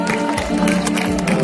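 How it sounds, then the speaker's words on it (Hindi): Conference audience applauding during the IIMUN Vadodara conclave at Parul University, a loud, dense wash of clapping and crowd noise with voices mixed in. "मिस्टर ऋषभ शाह, जोरदार तालियां हो जाए।"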